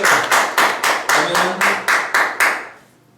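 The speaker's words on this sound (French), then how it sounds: "Acclamons pour le Seigneur." A church congregation claps in unison, about ten loud, steady rhythmic claps close by, ending abruptly and followed by a brief fading room echo, no speech over it.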